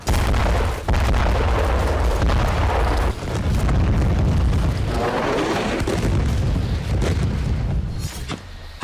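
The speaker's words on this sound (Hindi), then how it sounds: "इजराइल की बेचैनी इन ताबड़तोड़ धमाकों से जाहिर हो रही है।" Rapid, loud explosions and booming blasts from Israel-Palestine war footage, heavy and continuous with dense rumbling bursts running through the whole stretch, no voices.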